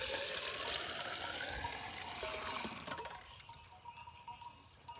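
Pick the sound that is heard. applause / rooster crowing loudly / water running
water running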